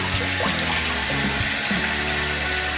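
Tap water runs steadily into a bathroom sink during a skincare routine, a continuous close splashing hiss that fills the whole stretch with no talking.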